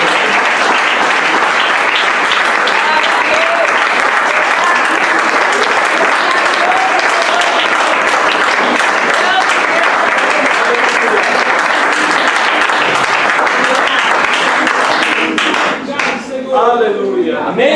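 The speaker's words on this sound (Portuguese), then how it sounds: "Dá um aplauso para o Senhor" A church congregation breaks into loud, dense applause that holds steady for many seconds before thinning out at the end.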